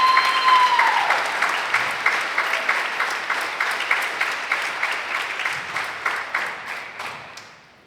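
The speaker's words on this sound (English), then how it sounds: "please give them a round of applause because they're doing so good" An audience at a school band's final concert applauds the students, starting as a full, loud burst of clapping that thins into a few scattered, fading claps before stopping.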